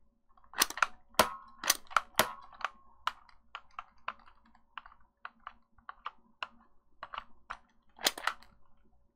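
A shotgun fired in the game Half-Life: Blue Shift, a run of sharp cracking reports, several close together at first then scattered and fainter, with a final loud burst; no talking.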